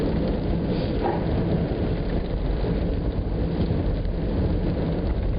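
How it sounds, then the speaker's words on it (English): Rain pounding steadily, heard from inside a taxi, a dense even hiss with low rumbling underneath, continuous with no voices. "it was raining, and it still is raining"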